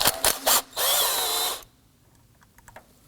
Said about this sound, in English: we're going to remove the 10mm bolt holding this in place